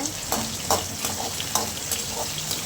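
Peeled small shallots sauté in a pan for a tangy kuzhambu, with a rhythmic run of spatula strokes over a continuous near sizzle and no voices.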